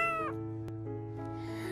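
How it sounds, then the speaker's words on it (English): A kitten gives a short, clear meow at the start, followed by softer tonal sounds over a steady musical backing, close and fairly loud. "My dear kittens!"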